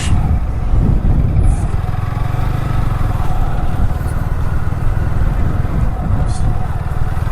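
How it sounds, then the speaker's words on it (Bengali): A motorcycle rides along the sea beach at Banshbaria, Sitakunda, its engine giving a steady, close drone that blends with wind rumble for the whole stretch. "সমুদ্রের পায়ে বাইক চালানোর স্বপ্নটা পূরণ হলো"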